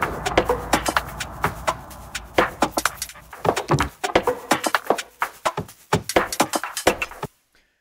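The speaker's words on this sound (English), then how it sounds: "a whole bunch of drum and percussion sounds that I modified" Sidechained group of modified drum and percussion sounds produced in Ableton, with sharp, punchy hits in a busy syncopated pattern, loud and upfront, cutting off abruptly near the end.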